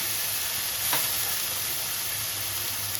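Ginger paste sizzling in hot oil in a pan, a loud continuous close-up hiss and crackle with one brief sharper spit near the start.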